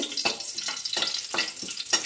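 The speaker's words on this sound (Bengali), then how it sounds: "একটু ভাজা ভাজা করে নেব।" Two or three dried red chillies and two bay leaves crackle in hot oil for a Bengali rosha tempering, sizzling in short spitting bursts that pulse about every half second.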